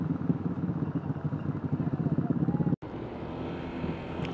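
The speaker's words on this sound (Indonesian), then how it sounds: "Knalpotnya gandeng." Loud motorcycle exhaust droning steadily nearby in stop-and-go traffic on a mountain road, with rhythmic pulsing under wind noise, briefly cutting out before resuming.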